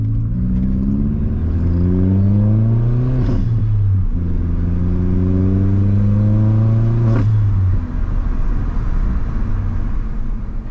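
An Audi TT 1.8T drives past loud and close, engine note rising through the gears in two long pulls with a gear change between them and steady tyre rolling noise underneath.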